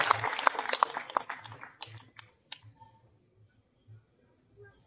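At the opening of a club competition, an audience bursts into applause that is dense at first, then thins into scattered claps and fades away after a couple of seconds.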